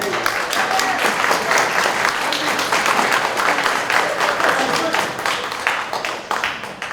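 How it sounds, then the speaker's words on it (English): An audience at a live improv Dungeons & Dragons show at a gaming convention breaks into sustained, dense applause that stays loud and even for several seconds before tapering slightly. "Give him a round of applause."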